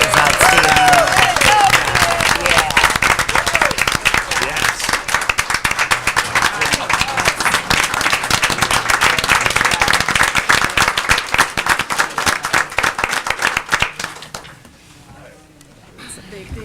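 Sustained audience applause at a school board meeting honoring students, loud and dense clapping with some cheering for about fourteen seconds, then fading into quieter room noise.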